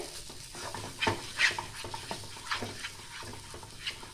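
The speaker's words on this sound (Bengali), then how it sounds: "এইভাবেই আমি একদম নাড়িয়ে চাড়িয়ে শুকনো করে নেব।" Spatula stirring and scraping pea filling in a hot pan, with soft sizzling beneath irregular scrapes and a few sharper clinks, close and fairly quiet, no talking.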